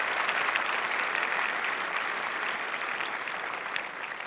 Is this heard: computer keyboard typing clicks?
no